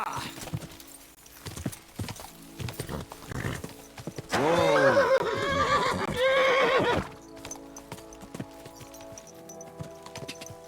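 A horse in the medieval game Kingdom Come: Deliverance II gives a long loud neigh in the middle, with clip-clopping hooves and scattered clatter before and after.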